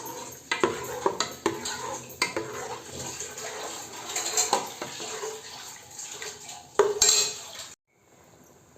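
Bamboo shoots fry in a pan while a utensil stirs and scrapes against metal in loud irregular clanks and rattles over a crackling sizzle, then it goes quiet near the end.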